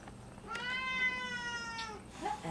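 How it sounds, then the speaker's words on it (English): A nearby house cat gives a single sustained, plaintive meow lasting over a second, then a faint short chirp, against a low steady hum. "Oh, cat."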